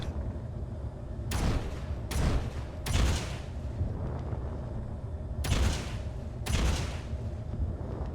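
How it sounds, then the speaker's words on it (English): Five sharp gunshot blasts in a skeet-shooting round inside a survival video game, spaced irregularly over several seconds, each a loud broadband crack with a short decaying tail over a steady low background hum. "Skeet shooting."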